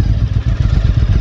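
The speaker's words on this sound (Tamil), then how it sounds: "S, this is the sound of the Moto wings exhaust." A Royal Enfield Interceptor 650 fitted with a Motowings exhaust gives a loud, close, continuous deep engine rumble with a pulsing, throbbing beat.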